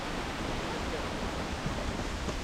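A waterfall in a Costa Rican rainforest gives a steady broadband rush of falling water, even and unbroken, heard from a short distance with no clear voices.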